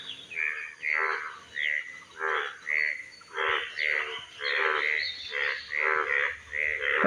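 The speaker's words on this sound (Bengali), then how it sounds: "এই যে হলুদ কালার ব্যাঙগুলো" Yellow frogs croak after rain in a steady, repeating rhythm, one burst of calls roughly every second, close by and fairly loud.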